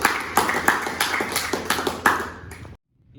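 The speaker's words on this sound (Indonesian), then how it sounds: "Beri tepuk tangan untuk Andina." A vocational high school class gives a student a round of applause, a small group clapping fairly loosely at close range with a few sharper claps standing out, then cutting off abruptly into near silence.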